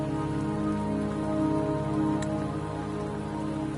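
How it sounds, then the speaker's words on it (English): Steady rain falls in a video game scene, a dense, even patter on surfaces with a constant hiss and no voices, holding at the same moderate level throughout. "Don't worry, the rain won't last much longer."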